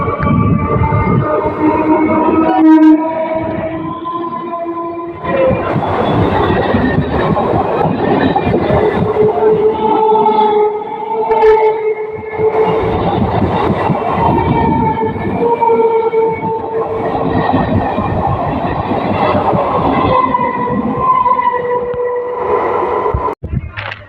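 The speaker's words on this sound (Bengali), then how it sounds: "দেখতে পাচ্ছ গাইস ট্রেনটা বেরিয়ে যাচ্ছে" A train rumbles past close by for a long stretch, its steady roar and screeching, whining tones rising and falling as the cars roll through.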